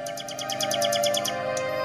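A nightingale sings a quick, repeating series of bright chirped notes in steady rhythm, fairly close and clear over a faint sustained tonal background, with no talking.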